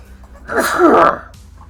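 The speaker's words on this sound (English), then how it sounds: "So I apologize in advance, I'm about to sneeze." A single sneeze from a man mid-commentary, one close, loud burst with a short breathy lead-in, alone and not under talk.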